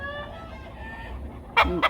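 Chickens cluck nearby, with two short, sharp bursts near the end over a low background rumble.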